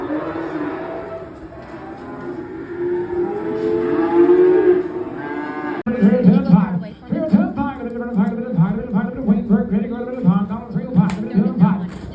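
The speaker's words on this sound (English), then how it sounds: "Cows just got unloaded." Cattle, freshly unloaded at a livestock market barn, moo repeatedly, several loud, drawn-out bellows overlapping one another close by, with people's voices and barn noise mixed in.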